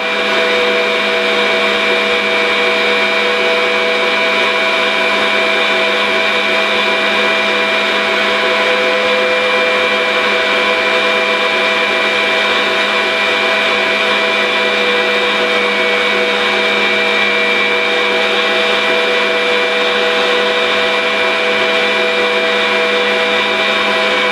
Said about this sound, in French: on n'arrête pas le batteur quand il commence à être en marche